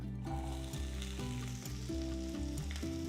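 Chopped onions sizzling and crackling in hot oil for cauliflower Manchurian, a continuous close frying hiss with occasional stirring scrapes.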